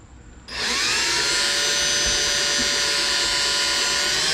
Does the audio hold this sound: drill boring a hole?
yes